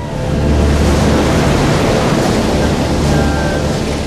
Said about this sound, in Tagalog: Maya-maya lang, naging mas malaki na ang mga alon.